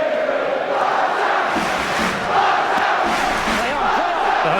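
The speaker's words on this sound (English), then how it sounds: "The Huddersfield crowd are singing." Huddersfield supporters sing together at a rugby league match against Leeds, a dense, steady wall of many voices filling the stadium and continuing without a break.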